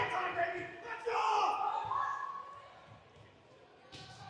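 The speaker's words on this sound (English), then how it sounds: "The crowd telling South to lock in." Crowd chanting at a high school volleyball match, a loud rhythmic mass of voices swelling in the gym, then easing off toward the end, with brief sharper sounds near the close.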